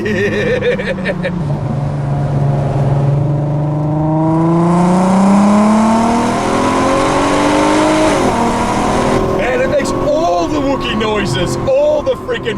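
A 2008 Volkswagen R32 with a VR6 engine revs loud and close, pitch climbing and falling in long sweeps before dropping off near the end, with talk mixed in underneath.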